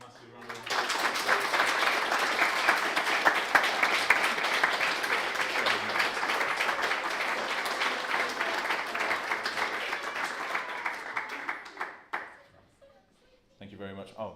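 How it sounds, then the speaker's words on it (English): An audience at an evening talk on game development gives a sustained round of applause, a dense wash of clapping that holds for about eleven seconds and then fades out, followed by a few faint words. "Right, massive round of applause."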